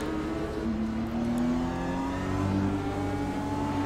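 A race car engine in the iRacing sim game, a steady droning whine with slowly shifting pitch as revs rise and fall, continuous and moderately loud throughout with no talk.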